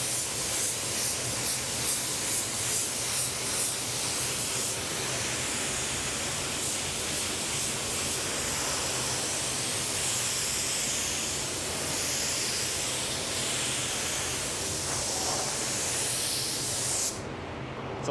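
Car paint sprays from a spray gun in a long, steady, loud hiss with slight pulsing as the trigger works during a blend and coverage coat, ending abruptly near the end; no talking.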